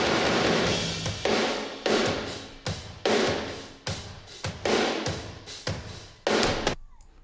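Heavy rock drum kit captured only through room microphones, with roomy, washy cymbals and booming hits in a steady groove, ending in a final crash that decays to near silence.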